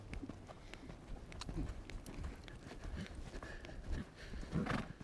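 Horse hooves cantering on a riding surface during a flying lead change, a steady three-beat rhythm of soft thuds close by, with a rider talking over it.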